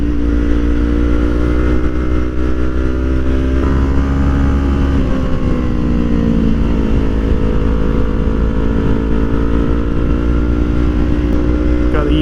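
A Kawasaki Ninja 400 motorcycle ridden on a trail, its engine droning loud and close with a steady harmonic hum that slides gently up and down in pitch as it shifts and accelerates, plus wind noise.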